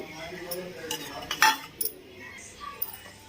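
A spoon clinks and scrapes against a bowl while mixing turmeric, coriander powder and water, with a few sharp metallic taps standing out over soft, close stirring.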